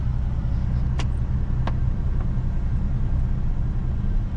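A car engine idles then steadily pulls away as the clutch is released during a driving lesson, a low rumbling drone close by, with a couple of faint clicks along the way.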